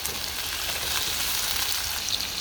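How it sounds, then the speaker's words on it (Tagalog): Tomatoes with pepper sizzle as they are sautéed in a pan for a home-style menudo, a steady, close crackling fry with no voices over it. "hinahalo ko na po yung pepper habang ginigisa ko yung kamatis"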